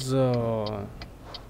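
A turn signal clicks in the truck driving game Euro Truck Simulator 2, with four faint evenly spaced ticks following a voice at the start.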